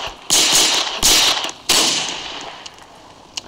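Three loud, sharp gunshots in a video game crack out about half a second apart, each with a brief ringing tail, followed by a couple of faint clicks.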